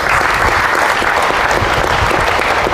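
A congregation claps during a church service in Pandi, Bulacan: loud, sustained applause from many hands, dense and unbroken throughout, with no voices standing out.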